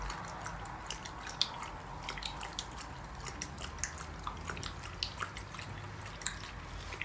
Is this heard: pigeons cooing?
no